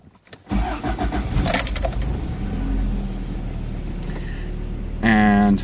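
A 1987 Toyota 4Runner engine cranks and fires up nearby, settling into a steady idle rumble, with a brief jangle of keys and a sharp tone near the end.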